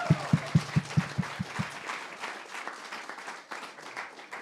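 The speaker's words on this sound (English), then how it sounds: "Can we give her a round of applause?" A live show audience gives a round of applause, starting with a few loud, evenly spaced single claps up close, then spreading into a softer, scattered patter of many hands that fades out.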